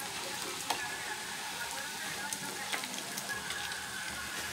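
Tortillas fry for Honduran enchiladas catrachas, giving a steady close sizzle of hot oil with small pops and crackles, and faint talk in the background.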